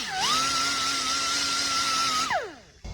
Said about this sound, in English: Scuff these brake pads.